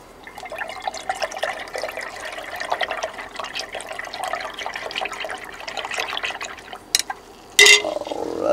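Liquid solution poured into a sterling silver refining batch during a sodium formate reduction, a steady trickling splash that runs for several seconds before a few sharper clinks and a louder final gush, close by, no speech.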